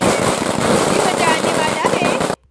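Firecrackers going off in an Indian village, a dense continuous crackling barrage of rapid pops, loud and near, cutting off abruptly at the end.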